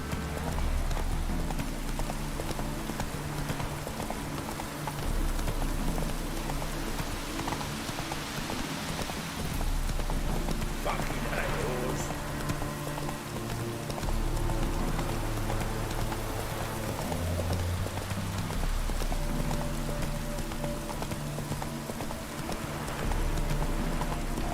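Roach, Geralt's horse in The Witcher 3: Wild Hunt on PC, plods along with steady rhythmic clip-clop hoofbeats over a constant wash of falling rain, the hooves fairly close and continuing throughout.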